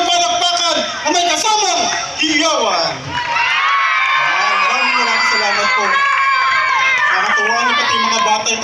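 A crowd at the grand opening and lighting of Calauag town hall cheers and shouts, with many overlapping excited voices and whoops swelling and dipping across the whole stretch.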